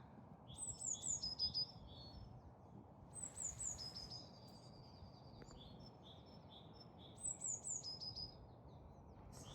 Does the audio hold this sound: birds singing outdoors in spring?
yes